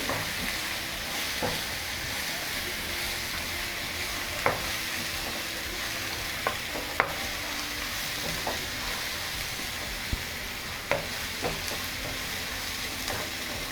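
Sliced onions with a half spoon of turmeric frying for an egg fry curry, a steady hissing sizzle with occasional sharp spatula clinks and scrapes against the pan.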